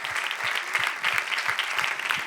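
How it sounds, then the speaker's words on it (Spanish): A church congregation breaks into brisk, full applause during a sermon, dense clapping that stays loud and even for a couple of seconds. "Le podemos dar un aplauso a Él."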